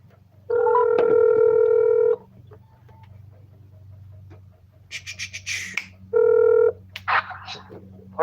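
A phone call being placed: two long electronic ringback tones, the second shorter, with quiet keypad clicks and faint chirps in between, heard close and clear with no talking.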